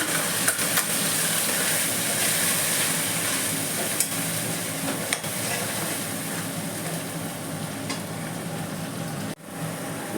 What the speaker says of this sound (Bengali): পেঁয়াজ ভাজা হয়ে গেছে মশলাটা দিয়ে দিচ্ছি